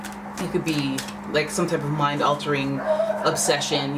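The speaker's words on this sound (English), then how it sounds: "I don't know if you guys can hear the dogs barking." Dogs bark outdoors in the background, faint and intermittent beneath continuous close talking.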